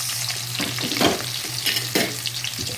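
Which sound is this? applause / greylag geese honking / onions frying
onions frying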